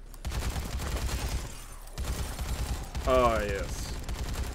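Rapid automatic gunfire from a light machine gun cutting down zombies in Dead Rising 3, dense crackling bursts running nearly throughout, with a brief pause and a man's short exclaimed remark over the shooting.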